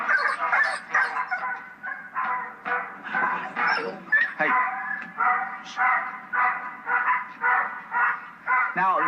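Several dogs bark aggressively in a rapid series of sharp, loud barks and yaps, close by, continuing almost without pause over the whole stretch.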